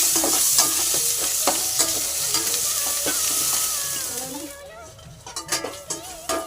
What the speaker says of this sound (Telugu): ఇప్పుడైతే కొంచెం అల్లం వెల్లుల్లిపాయ పేస్ట్ వేసి ఒకసారి వేయించేస్తున్నాం.